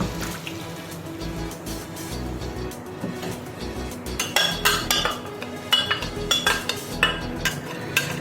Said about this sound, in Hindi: अब मैं इसके अंदर मैरिनेटेड चिकन ऐड कर रही हूँ।